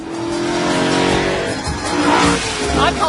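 A 1970s Lamborghini Urraco V8 drives past at close range, a loud sustained engine roar with rising revs and a brief tyre squeal, with no talking over it.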